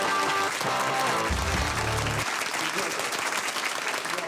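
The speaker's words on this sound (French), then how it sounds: "Tous ces applaudissements." Steady applause from a studio audience on a French sports talk show, with a brief low musical tone and faint voices underneath.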